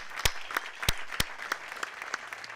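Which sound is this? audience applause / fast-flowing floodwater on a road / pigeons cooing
audience applause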